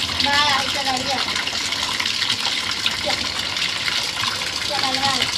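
Fish rubbed with salt being washed by hand in water, a steady splashing and rushing wash filling the whole stretch, close and loud, with faint background voices.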